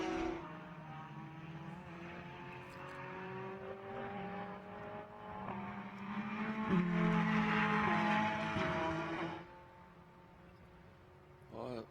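Blancpain GT World Challenge race cars lapping at Virginia, including the number 7 Ferrari, a steady droning engine note with shifting pitch as cars pass, heard at a distance under continuous commentary.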